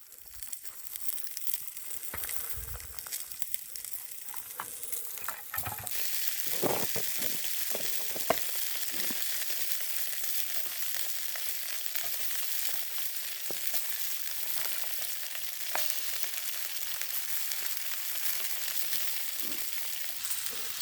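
Pork sausages, tomato, onion, sweet potato and white potato frying in a pan on a car camping stove, a steady loud sizzle broken by scraping stirs and crackling pops throughout.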